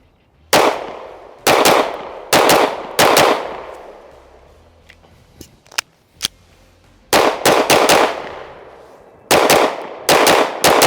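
A Staccato P 2011 pistol fires in quick bursts of loud, sharp shots with short pauses between strings. Faint clinks fill the quiet gap in the middle.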